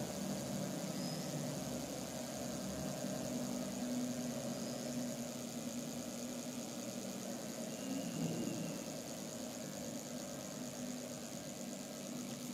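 A homemade BLDC motor hums steadily on its controller as its speed is brought down from about 793 RPM, a faint, even mechanical drone with a soft whine and no voices.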